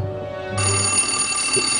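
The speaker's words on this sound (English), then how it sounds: "She's had the whole lot of this food, purely by pushing the doorbell" An electric doorbell pushed repeatedly by a cow in a barnyard sounds as a loud, continuous ringing bell tone close by, running steadily with no talk.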